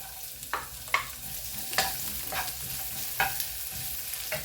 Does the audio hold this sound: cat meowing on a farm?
no